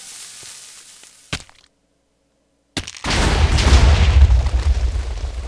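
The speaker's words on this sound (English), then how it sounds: "Kaboom! Um, yep, it was a trap." Explosion from a triggered trap in the video game Vinyl Fantasy II: a sharp pop, then a brief silence, then a loud booming blast that rolls on as a heavy, sustained rumble.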